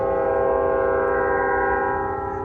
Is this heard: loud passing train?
yes